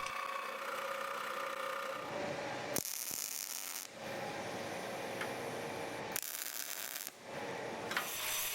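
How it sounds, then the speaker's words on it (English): A jigsaw saws through a damaged aluminum profile, a harsh buzzing rasp that runs steadily for several seconds, breaks off in two short pauses and picks up again, close and loud with no talking. "Cut it in half with the jigsaw."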